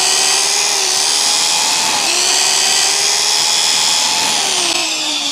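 An electric drill bores a hole through a wooden board for a homemade spot welder built from a microwave transformer, a loud continuous high whine with slight pitch dips as the bit bites, close and alone.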